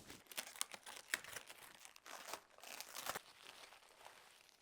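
Plastic and paper wrapping being pulled off a Cricut Explore 3 cutting machine: faint, close crinkling and tearing in irregular bursts.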